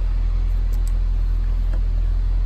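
An Audi A8 engine idles steadily, a constant deep low rumble with a faint hum above it, close and unbroken, with no voices.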